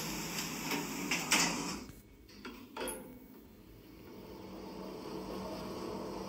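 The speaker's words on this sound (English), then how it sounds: "Doors closing." Elevator doors sliding shut in a Roblox headquarters lift, a short burst of clattering metallic clicks and a thud, then the sound fades into a quiet, steady hum.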